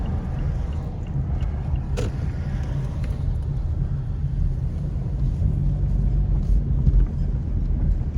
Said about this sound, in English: We'll go ahead and pull in like we're dropping off a letter to the post office so you can experience the post office drive.